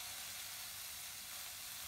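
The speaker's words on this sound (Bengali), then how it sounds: "দিয়ে এটা একটু ব্রাউন করে ভেজে নেব।" Chopped onion frying in hot oil in a pan, a steady soft sizzle that holds evenly throughout, quiet and with no talking.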